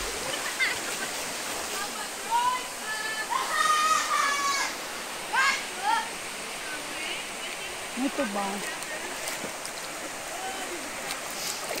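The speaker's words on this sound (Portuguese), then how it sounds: "Tô dentro de um rio, pessoal, ainda" Steady broadband rush of river water flowing through a rocky stream, likely with small falls, in Chapada Diamantina's Rio das Lajes, continuous and close, with brief speech and a few chirps over it.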